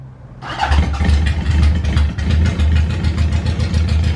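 A 1977 Honda Hondamatic motorcycle, a barn-find bike, fires up and settles into a steady, close idle with a lumpy low rumble, heard alone.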